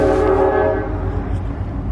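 A train sounds a loud, sustained horn close by for most of the clip, then the blast cuts off and the rumble of the passing rail cars carries on underneath.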